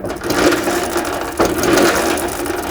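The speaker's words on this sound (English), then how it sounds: "now I'm going to spin the wheels. You're going to hear a lot more parts moving" A snowblower's drive wheels spinning after repair, with a steady loud mechanical whir and clatter of gears and drive parts moving throughout, rising briefly in a burst midway.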